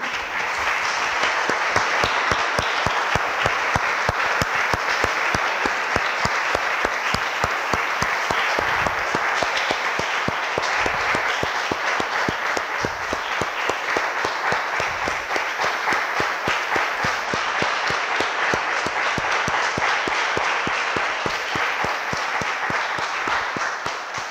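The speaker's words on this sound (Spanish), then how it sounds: "Damos un aplauso, hermanos, al Señor." A church congregation applauds steadily and loudly for the whole stretch, a dense, continuous wash of many hands clapping with no talk over it.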